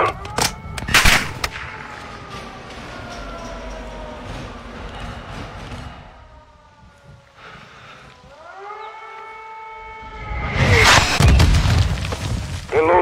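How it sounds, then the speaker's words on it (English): Mortar launches and gunfire in a military shooter video game's campaign battle: loud booms and sharp shots up front, a wailing siren-like tone through the middle, then a heavy burst of blasts near the end. "Launching mortars"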